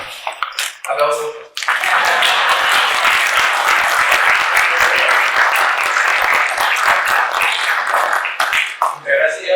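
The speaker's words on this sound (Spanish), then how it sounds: "Aplausos." Audience applause after a corporate identity class, a dense steady wash of many hands clapping that swells in, holds strongly for about seven seconds, then drops away to a few voices.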